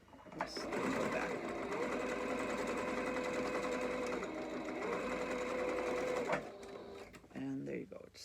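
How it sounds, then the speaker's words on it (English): A sewing machine running a second line of stitches over the same seam, a steady close whir and needle patter lasting several seconds before stopping, with a voice talking over it. "I take and sew it one more time on the same. I try to go on the same line, the same stitch line."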